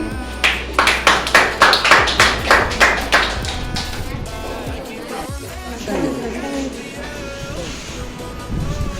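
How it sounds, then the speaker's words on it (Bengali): Students at a school art competition clap in a burst of roughly a dozen quick rhythmic claps, loud and close, then scattered chatter and room noise follow. "নির্মাণের জন্য সবাই একটা জোরে হাততালি"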